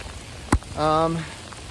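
Rain falls outdoors as a steady soft hiss throughout, broken by one sharp tap and a short tonal sound in the middle.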